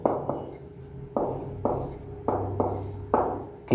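Chalk or marker strokes on a board during a maths lesson, a series of sharp scratchy bursts about every half second to second, each fading quickly, close and fairly clear with no talk.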